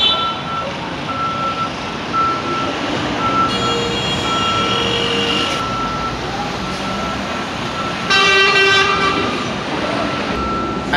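Busy road traffic with trucks rumbling past, a steady reversing beep and short car horn toots cutting through the continuous engine noise, loud and close with no talking.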